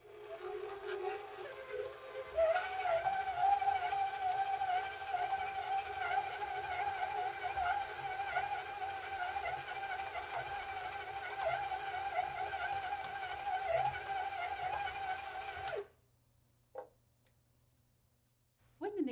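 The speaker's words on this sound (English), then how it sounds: "continue to mix the dough until it climbs the hook and continues to develop gluten" Stand mixer with a dough hook kneading focaccia dough, a steady motor whine with rhythmic slapping that runs continuously for about fifteen seconds, then stops abruptly, leaving near silence with a couple of faint knocks.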